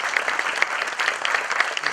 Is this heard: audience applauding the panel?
yes